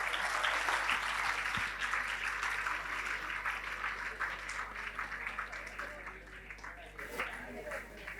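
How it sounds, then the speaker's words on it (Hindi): An audience at a school Independence Day celebration claps steadily for teachers and staff, a dense sustained wash of applause filling the hall at moderate level throughout. "तो एक बार वो सारे टीचर्स और स्टाफ के लिए आप एक बार जोरदार तालियां बजा दीजिए"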